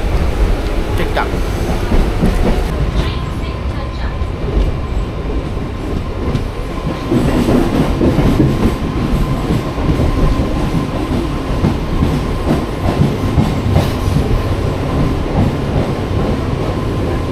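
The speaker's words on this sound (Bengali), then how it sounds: "এখন আমাদের ট্রেন এসে পৌঁছালো মেছেদাতে" A Digha to Howrah local train runs steadily, its continuous loud rumble and rattle of rolling rail cars filling the whole stretch, with a faint tonal hum and occasional clacks, voices murmuring under the noise.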